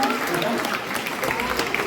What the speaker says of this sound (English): George, give a big round of applause